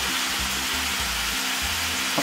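Sesame seeds (wangila) dropped into hot oil, a dense, steady hiss of frying close up with soft stirring scrapes underneath, no voices.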